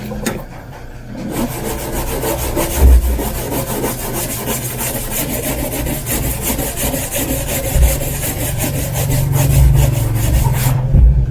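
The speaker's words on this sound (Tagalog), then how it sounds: "Ayan, natanggal na yung yellow mga manay. Kasi kiniskis ko ng masyado." Vigorous scrubbing to remove a yellow stain: continuous close, rough back-and-forth rubbing with a steady rhythm, loud and persistent throughout.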